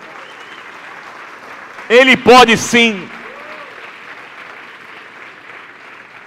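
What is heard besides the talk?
congregation applauding in church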